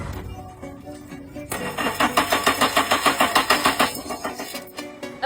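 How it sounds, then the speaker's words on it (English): A car engine that won't start cranks over in a fast, steady pulsing rhythm for several seconds, loud and close, following a moment of quiet handling noise. "I'll have the owner try starting it in a moment."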